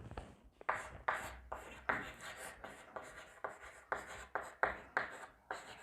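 Chalk or marker scratching across a board during a Hindi chemistry lecture on IUPAC naming, about a dozen rhythmic strokes in quick bursts, close and clear with no talk over it.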